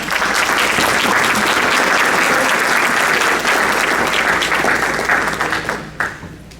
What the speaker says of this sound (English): So give her a nice round of applause.